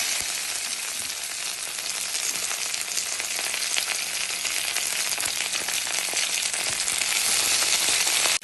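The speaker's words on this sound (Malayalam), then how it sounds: "അപ്പം നമ്മൾ ആദ്യം അതിലേക്ക് കറിവേപ്പില ഇട്ട് കൊടുക്കണം." Leaves crackle and sizzle in hot oil, a loud, steady frying hiss that continues throughout with faint stirring.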